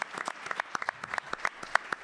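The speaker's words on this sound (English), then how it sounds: "So let's give them a round of applause." Scattered applause from a modest audience at a law symposium on criminal justice reform, individual claps distinct and uneven, fairly quiet and close, with no talking.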